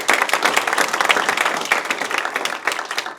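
A luncheon audience at a senior center volunteer appreciation event gives a short burst of steady, close applause, many hands clapping together for about three seconds.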